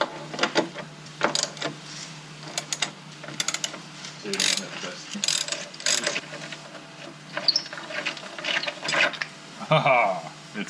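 A hand ratchet clicks in short, uneven bursts as it works a rusted body mount bolt back and forth on a 1995 Jeep Wrangler, close and clear, with brief pauses between strokes.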